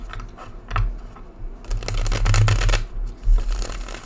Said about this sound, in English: They riffle shuffle really great.